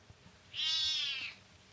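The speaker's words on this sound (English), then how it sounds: "Cat." A single drawn-out cat meow, clear and fairly close, rising and falling over about a second against a quiet background.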